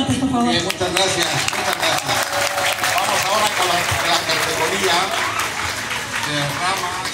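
A crowd at an award ceremony for a traditional branch-decorating contest in Xalapa claps loudly and continuously, the applause blending with voices and chatter across the whole stretch.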